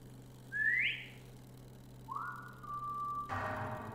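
Two eerie whistles sound in the horror video game Lazaret: a rising tone, then a lower, longer held note, moderately loud over a low ambient hum, followed by a noisy thud.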